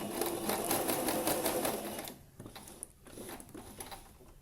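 A sewing machine stitches fabric in a steady, rapid mechanical chatter, close and clear, then slows and drops to quieter, intermittent running with faint clicks.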